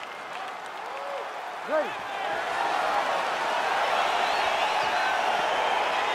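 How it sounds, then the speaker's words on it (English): In EA Sports UFC 4, an arena crowd roars as the Doo-ho Choi vs. Adam Copeland fight begins, a broad wash of cheering that swells and stays steady, with a brief spoken word near the start. "crowd getting excited as this fight gets underway"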